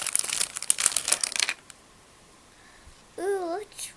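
Crinkly plastic packaging of a Fingerlings Mini toy being cut open, a dense run of close crackling and crumpling at first, then quiet, followed by a brief child-like voice.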